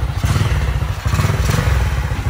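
A small motorcycle engine, such as an XRM110 or Wave 100 after a full-wave wiring conversion, idles close by with a steady rough chug and a slight surge, running alone without talk.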